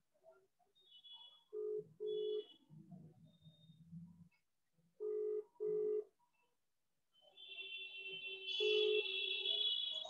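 A phone call goes out during an online meeting, with faint paired tones repeating in a steady pattern and a brighter ringing tone swelling near the end, with no one speaking.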